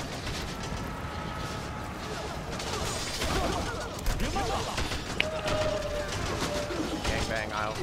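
Gunfire and battle clatter from the medieval combat video game Tiger Knight form a dense, continuous din with sharp bursts near the middle, while voices talk and shout over it.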